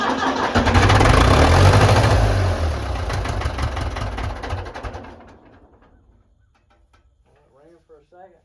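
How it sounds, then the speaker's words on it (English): A tractor engine, started by jumping the starter with a jumper wire, cranks and catches with a loud rough roar, runs for a few seconds, then dies away, leaving near silence and a few faint knocks. "we're gonna jump the starter"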